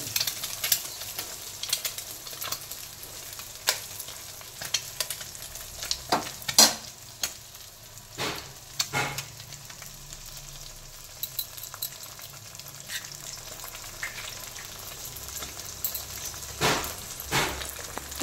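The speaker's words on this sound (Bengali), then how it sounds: "ভাজা হয়ে গেছে, দুটো ডিম ফাটিয়ে দিই" Maggi noodles fry in a pan with eggs added, giving a continuous sizzle broken by sharp clicks and scrapes of stirring and utensil taps at uneven intervals, loud and close, with no talking.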